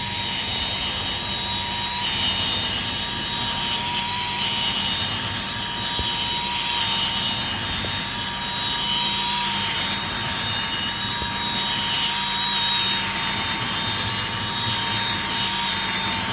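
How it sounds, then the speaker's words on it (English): A cordless drill spins a scrub brush at its lower speed setting while cleaning a three-piece upholstered sectional, giving a steady, continuous whine that runs unbroken and fairly loud throughout, with no talking. "I have the drill on the lower setting, so if I'm pulling the trigger all the way, I'm not going at full speed."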